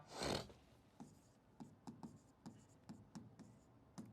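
Chalk or marker taps and short scrapes on a board during a chemistry class, a quick strike followed by about eight light, evenly spaced writing strokes, close and fairly quiet with no voice.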